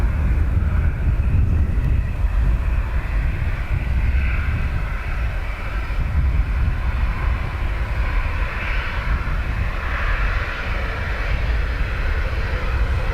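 Ryanair jet departing for Gatwick, a steady loud engine roar sustained throughout at close to moderate distance, with no voices over it.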